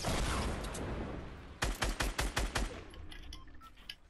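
Rapid gunfire in Fortnite hits as a tight burst of about six loud, evenly spaced shots after a wash of background noise, followed by fainter scattered game sounds.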